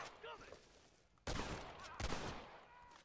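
Red Dead Redemption gunfire in a shootout: two loud, sharp bursts of shots, each trailing into a noisy decay, with quieter game sounds between them.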